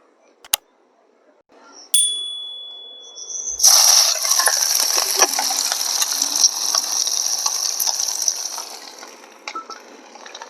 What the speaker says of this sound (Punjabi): ਤੇਲ ਗਰਮ ਹੋ ਗਿਆ ਫਿਰ ਆਪਾਂ ਹਰੀਆਂ ਮਿਰਚਾਂ ਤੇ ਗੰਢਾ ਪਾ ਦੇਾਂਗੇ